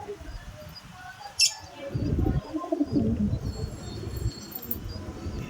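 Pigeons sitting with their chicks in indoor coops give low, rolling coos near the middle, after a brief sharp click, against a quiet room with no talking.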